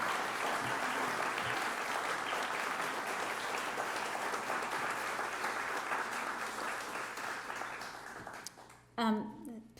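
Sustained applause from a lecture audience welcoming a Shakespeare lecturer, a dense even clapping that fades near the end before a voice begins speaking.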